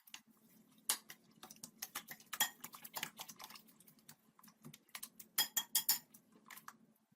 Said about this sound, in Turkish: Önce bu malzemeleri karıştırıyorum.